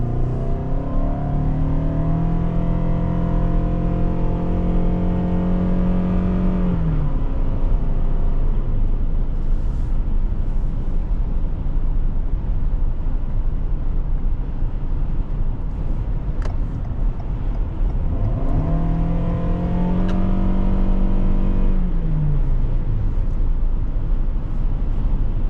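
A 2021 Toyota Sienna Limited minivan accelerates twice from inside the cabin, its engine note rising in pitch before easing off, over a constant road and wind roar.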